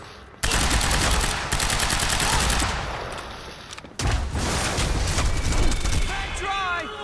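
Sustained automatic gunfire and explosions in the video game Quantum Break roar loud and dense for several seconds, break briefly, then resume, with shouted voices mixed in and a few whistling tones near the end.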